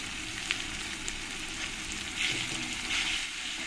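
Cumin-coriander paste and ginger-garlic paste sizzle steadily in a pan with onion and tomato for a Bengali prawn curry, a dense continuous frying hiss with a few soft stirring scrapes and no talking.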